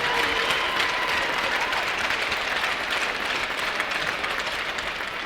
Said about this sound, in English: how about a round of applause for Chick-fil-A of New Hampshire and Massachusetts with these free chicken sandwiches